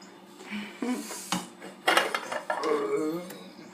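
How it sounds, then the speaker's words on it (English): A plate set down on top of a pan of seared salmon, making a handful of close clinks and clattering knocks of crockery against metal, with light handling noise between them. "take the plate, put it on top"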